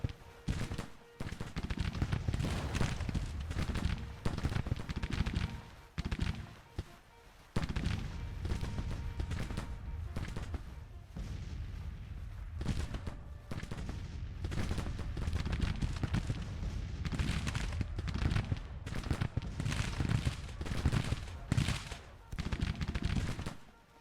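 Massed troops firing musket volleys in the Civil War game Grand Tactician, producing a dense, continuous crackle of gunfire with heavier booms throughout, with only brief lulls between bursts.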